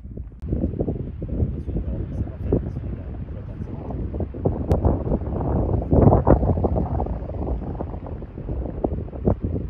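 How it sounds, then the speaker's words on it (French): Wind gusting steadily across the shore of Lac d'Allos, a mountain lake in the French Alps, a broad continuous rumble that swells and buffets the microphone, with people talking over it. "à l'instant, il y avait du vent, il faisait super froid"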